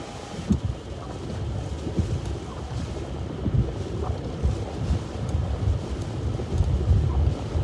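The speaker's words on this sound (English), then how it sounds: "Let's roll the window down and we'll gauge the wind speed here" Steady broadband wind rushes in through an open car window during a severe thunderstorm in Iowa, a continuous low roar with gusty swells and no voices.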